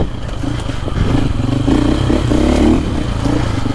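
Dirt bike engine from a 2025 KTM 350XCF or Husqvarna FE450 ridden in second gear through a tight wooded trail, a steady close-up drone that swells and eases as the clutch is feathered, with no talk.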